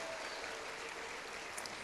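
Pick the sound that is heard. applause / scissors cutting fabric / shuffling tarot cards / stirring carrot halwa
applause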